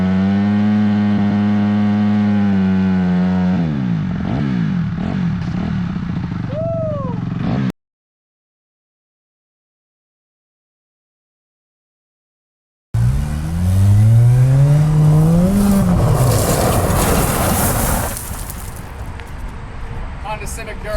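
A Honda Civic on a durability test revs hard through rising and falling engine pitches with tire squeal, loud and close, broken by a few seconds of silence before another aggressive run.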